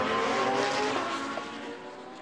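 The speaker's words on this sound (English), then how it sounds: "So the pace car, the safety car, quickening the overall pace, but still with the lights on." Safety car leading GT race cars around the Zandvoort circuit during a GT World Challenge race, a steady loud engine roar with broad road and tire noise, easing slightly toward the end.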